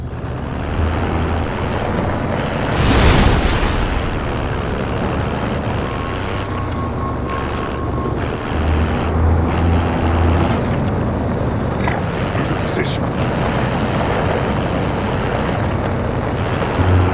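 A vehicle driven in Call of Duty Warzone makes a loud, continuous engine roar with rumbling road noise, a surge near the start and whining tonal shifts as it moves, and no talk over it.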